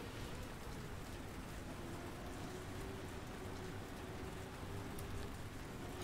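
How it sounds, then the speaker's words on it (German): Steady rain falling in a racing video game, a continuous even hiss of drops with no talk over it. "Ja, es regnet."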